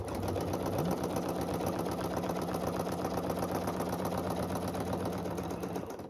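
A sewing machine runs steadily and continuously, stitching a straight line down a quilted mini runner at 1/4 inch spacing, with a fast, even motor whir and needle rhythm close by and alone throughout.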